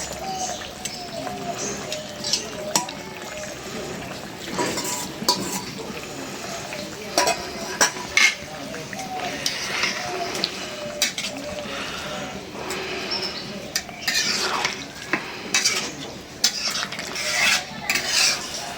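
Stinging catfish (shing fish) fry in a pan while being stirred, a continuous sizzle with frequent scraping and clinking of a utensil against the pan, with a voice talking over it.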